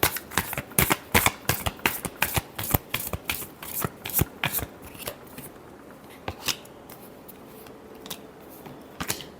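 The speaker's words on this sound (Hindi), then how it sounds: "Last shuffle." Tarot cards shuffled by hand in a long run of crisp, rapid riffling flutters and snaps, loud and close at first, then thinning to a few sparse flicks with no talking.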